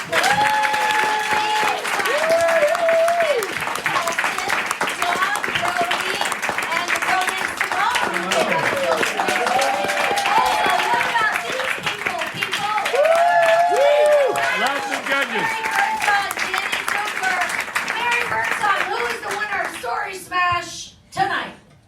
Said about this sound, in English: Big round of applause for everybody.